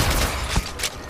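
Gunfire in the mobile battle-royale game Apex Legends Mobile comes as a dense, loud burst of rapid overlapping shots and mechanical clatter, heard up close for about a second with no voices.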